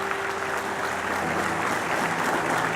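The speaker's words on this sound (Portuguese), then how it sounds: "Aplauda o Senhor." A church congregation applauding during a communion service, a dense continuous wash of many hands clapping, fairly loud and steady throughout.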